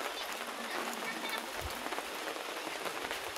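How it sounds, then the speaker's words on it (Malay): Light drizzle falling outside a house, a soft, steady hiss of fine raindrops on surfaces, continuous and fairly faint throughout. "Hujan gerimis."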